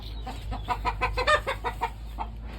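A backyard rooster clucks in a quick run of about ten short, evenly spaced calls, fairly close, over a steady low hum, then falls quiet near the end.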